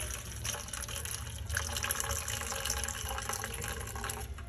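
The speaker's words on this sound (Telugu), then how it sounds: "ఈ నీళ్ళు వంపేసుకొని" Water poured off spinach dal with peanuts and tamarind, just cooked in a pressure cooker, makes a steady splashing, gushing stream that runs the whole time at moderate level.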